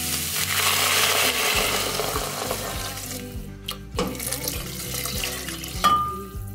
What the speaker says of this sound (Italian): adesso andremo a mettere l'acqua rigorosamente fredda